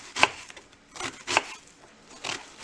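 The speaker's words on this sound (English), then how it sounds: "always look at the knife when you're cutting" A kitchen knife dices food on a cutting board in a few sharp, separate chops spaced about a second apart. Each one is close and crisp, with no talking around them.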